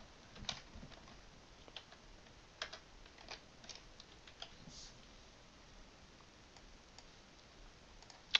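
Keys on a computer keyboard tap out a line of script code in a quiet room, a short run of light, faint clicks spread unevenly over several seconds.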